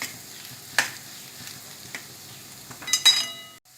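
Vegetables for dosa are stirred in a hot pan, a light steady sizzle broken by a few scraping and clinking spatula strokes near the end, close and fairly quiet.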